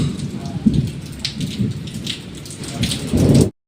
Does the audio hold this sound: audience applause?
no